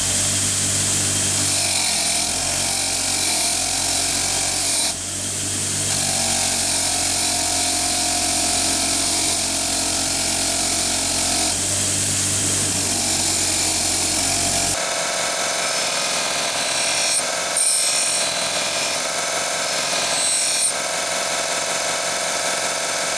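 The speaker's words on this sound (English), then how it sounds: "we'll get it on the wire wheel, get it cleaned up" Motorised wire wheel scrubbing filing marks and burrs off a steel hatchet head, a steady loud grinding whine with brief dips where the head is repositioned, no voices.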